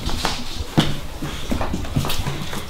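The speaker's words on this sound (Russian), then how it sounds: "Собака бегает" A dog moving about nearby, quick paw patters and scuffles mixed with soft whimpering sounds, steady and busy throughout.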